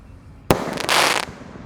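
Roman candle fireworks and firecrackers lit at a holiday celebration: a sharp sudden burst, then a loud hissing rush of fire that cuts off after about a second.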